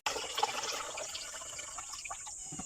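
Food being washed under running water, a steady close splash and trickle from a tap lasting a few seconds, fairly faint, with no talk.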